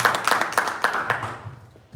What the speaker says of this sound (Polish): Dajmy jej oklaski.